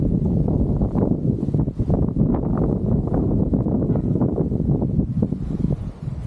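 Strong wind gusts at an open, elevated spot by Candle Monument, making a loud, continuous low roar that buffets the microphone throughout.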